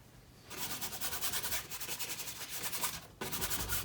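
A brush scrubs oil paint with little thinner onto a primed 40 by 30 canvas, making a steady, close, dry rubbing and swishing with a brief break near the end.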